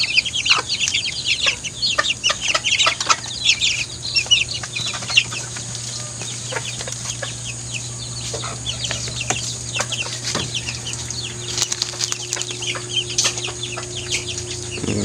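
Native chickens about 45 days old cluck and chatter steadily, with many overlapping calls from a flock over a low steady hum, some brief sharper squawks scattered throughout.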